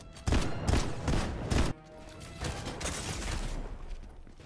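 Rapid bursts of gunfire from a gun in the Fortnite video game, a few loud volleys close together in the first half, then quieter continuing shots and game noise.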